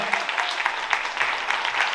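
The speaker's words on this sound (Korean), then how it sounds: "큰 박수 부탁드립니다" Audience applause at a gayageum byeongchang concert by a research ensemble, a dense, steady wash of clapping from a hall full of listeners, sustained and even throughout.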